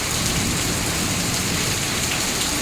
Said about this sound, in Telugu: రాళ్ళు చిటపట చిటపట రాళ్ళు రాలుకుంటూ